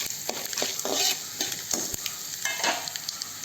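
Gunta ponganalu batter frying in a pan over a low flame, a steady close sizzle broken by soft scraping stirs and light clicks, with no voices.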